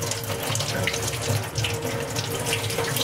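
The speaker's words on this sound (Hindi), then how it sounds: "ये गाजर को अच्छे से धो ले" Carrots being washed under a running kitchen tap, a steady close rush of water splashing into a sink with no pauses or speech.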